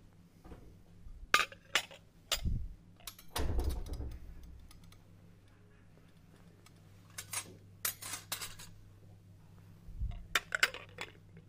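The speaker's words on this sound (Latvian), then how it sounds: "lai pēc tam sakrāmētu vēl vairāk šķīvus" Porcelain dinner plates and cutlery are cleared and stacked at a served dining table, scattered clinks, scrapes and dull knocks of dishes set onto one another, close and fairly quiet, with pauses between handlings.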